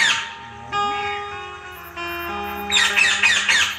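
A parrot lets out a rapid string of loud, harsh squawks near the end, following a stretch of steady, ringing sustained tones in the background.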